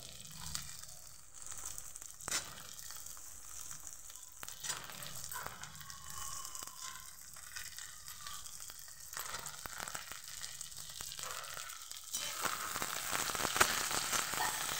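Okra sliced for a bhindi curry fries in a pan with a steady, soft crackling sizzle running throughout, with faint rustling and a few crinkly bursts, growing slightly louder toward the end; no one speaks.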